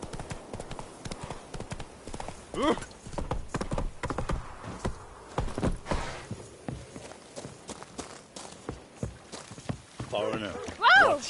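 Hooves of Roach, the horse in The Witcher 3, clatter in a quick galloping rhythm, loud and near, with game voices talking over the hoofbeats and a short whinny near the end.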